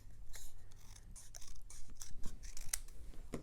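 Paper card being cut by hand with scissors while making Christmas tags and cards: a quiet, close run of soft snips and rustling paper, with no talking.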